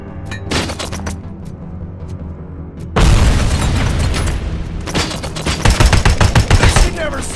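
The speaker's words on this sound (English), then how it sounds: "Throwing grenade!" A grenade blast in Robocop: Rogue City erupts as a loud, sudden broadband boom that lingers, followed by bursts of gunfire crackling in rapid pops over continuous battle noise.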